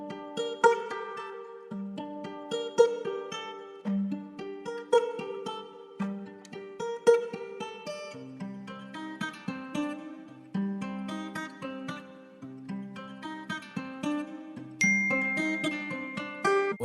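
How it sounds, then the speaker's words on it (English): A sampled guitar loop for a dark African trap beat plays alone as a steady run of bright plucked notes over lower sustained tones, repeating evenly at moderate volume. "I started off with this guitar loop that I found from slooply or slooply.com"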